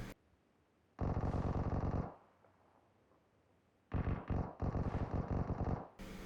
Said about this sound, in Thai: มีเสียงปืนอยู่ด้านบนนะครับ